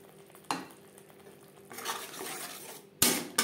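A spoon stirs spice paste into broccoli in a pan, making a few sharp scraping clanks and a soft sizzle that rises and falls. Quiet and close, with no speech.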